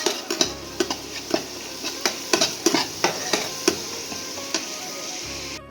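A spoon stirs chili powder, green chili paste and turmeric into fish korma in a pan, giving a series of irregular scraping knocks over a soft sizzle.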